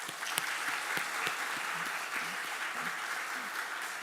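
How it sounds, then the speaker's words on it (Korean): A church congregation claps steadily for several seconds during a worship service, a dense patter of hands heard from a slight distance, even and sustained throughout. "우리 오늘 예배 오셨는데 우리 격려의 박수 한번 부탁드립니다."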